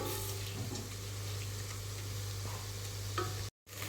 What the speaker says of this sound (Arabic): دوك نستنى حتى تذوب ونحط الرز تاعنا، نقليه مليح في المارغرين